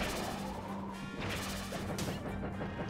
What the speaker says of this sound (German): Die Dinge explodieren, oder?